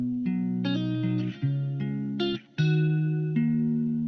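Trap-style instrumental beat tracks mixed with double tracking for wider stereo, a full distorted synth and bass loop with shifting chords and brief dropouts, steady and loud without speech.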